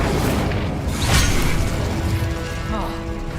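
An Incendio fire spell in Hogwarts Legacy bursts with a loud, whooshing boom over constant roaring game noise, with a brief rising swish near the end.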